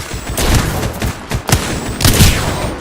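Rapid gunfire rattles through an Apex Legends firefight, loud and close, with dense bursts of shots and impacts piling over one another without pause.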